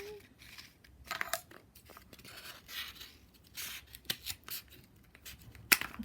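Scissors snipping through a cardboard egg carton, a series of short, crisp, crunching cuts at irregular intervals, close up and fairly quiet.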